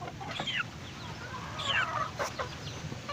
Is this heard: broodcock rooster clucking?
yes